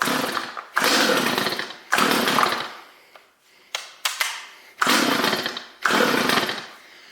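Stihl MS210C chainsaw engine running in short bursts of rough, buzzing revving that drop away between pulses, with a few sharp mechanical clicks in the gaps; the saw sounds close and loud with no talking.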